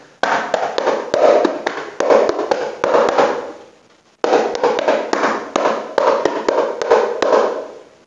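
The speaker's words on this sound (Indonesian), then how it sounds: "Jadi kepraknya menggunakan keprak mika." Keprak mika, a mica-headed hadroh frame percussion instrument with screw-tuned head, struck in a quick pattern of sharp, bright taps, loud and close, in two phrases separated by a short pause.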